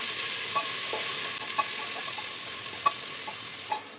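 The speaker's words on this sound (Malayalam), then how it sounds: "ഈ സവാള നല്ല ഗോൾഡൻ ബ്രൗൺ കളറാവുന്ന വരെ നമുക്കിതൊന്ന് വഴറ്റിയെടുക്കാം" Sliced onions sauté in a pressure cooker pan for vegetable pulao, giving a steady close sizzle with scattered scrapes and clinks of a spoon stirring, no voices.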